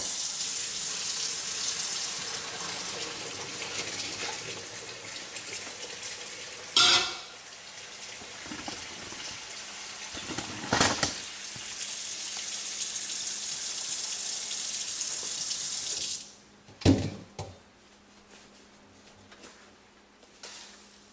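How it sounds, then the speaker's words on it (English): Pasta and its cooking water poured into a strainer in a kitchen sink, a long steady hissing rush of water that breaks off near the end, followed by a few clattering knocks. "Let's go ahead and dump the pasta into the strainer."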